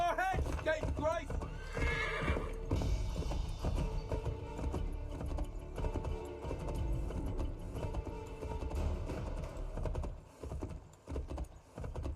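Horse in Assassin's Creed III whinnies loudly near the start, then hooves clip-clop steadily under a dense game soundtrack, with a character voice speaking over the mix.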